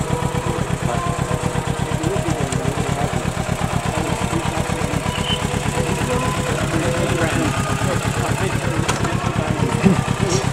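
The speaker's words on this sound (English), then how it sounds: "So that's the Kawasaki Z, I think Z650 is it?" A Kawasaki Z650 motorcycle fitted with a catalytic converter idles close by, its rapid, even engine pulse thrumming steadily and loudly the whole time, with voices faintly in the background.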